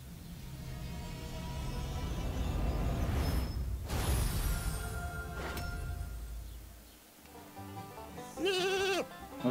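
A sheep in Skylanders Trap Team lets out a short wavering bleat near the end, following a stretch of whooshing game sounds and ambient noise.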